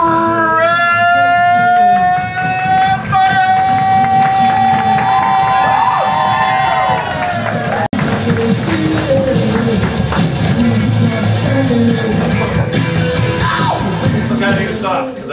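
An improv comedy show audience cheers and shouts loudly over upbeat music, voices and whoops blending into a continuous roar with some clapping.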